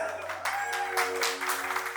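Guests at a ring ceremony clapping together, a brief moderate burst of applause over a sustained background tone, fairly close.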